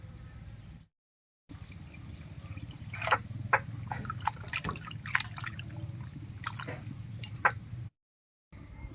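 Mushrooms being washed in cold water give soft drips, squishes and splashes, scattered and irregular over a low steady background.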